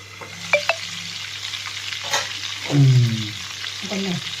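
Chicken liver frying in a pan, a steady close sizzle running throughout with a few sharp clinks and scraping stirs of a utensil against the pan.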